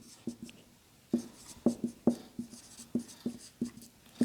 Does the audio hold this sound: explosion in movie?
no